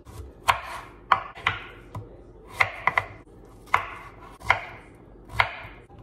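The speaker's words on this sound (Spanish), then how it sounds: "Voy a estar partiendo la calabacita en cubitos pequeños." A knife chops zucchini into small cubes on a cutting board in sharp, irregular strikes, about a dozen crisp knocks close by with no talking.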